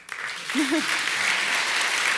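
An audience at the ITB Berlin Africa Forum breaks into a dense, sustained wash of applause, with a brief voice heard near the start.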